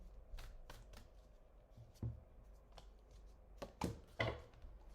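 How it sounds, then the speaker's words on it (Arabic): A tarot card is slid and drawn from a deck, giving a few soft papery swishes and light taps spread across quiet room tone, close and fairly faint with no talking. "تعالى كده خد لك كارت من المرماليد"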